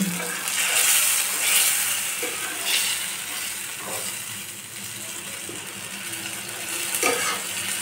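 Fried snakehead fish goes into spiced masala with potato and pointed gourd, sizzling steadily up close, with occasional utensil clinks and stirring scrapes and a faint hiss of moisture.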